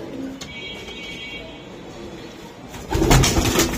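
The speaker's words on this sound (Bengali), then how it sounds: "কবুতর খালি উড়াউড়ি করে" Racing high-flying Giribaz pigeons coo and flutter around a loft, with a busier, louder burst of wingbeats and calls near the end and faint voices in the background.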